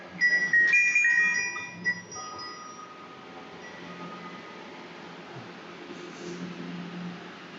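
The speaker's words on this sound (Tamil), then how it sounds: "இது வந்து பஞ்சலோக பெல், 5 மெட்டல் பெல்." A small panchaloha bell cast from five metals, kept in a handcraft shop, is struck once near the start and gives a bright ring that fades into a long, faint hum under steady room noise.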